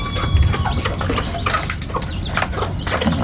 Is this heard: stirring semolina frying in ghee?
no